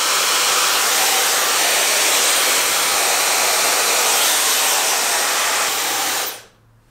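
A hair dryer with a diffuser blows loudly and steadily on curly hair, close to the mic, with no talk, then switches off near the end.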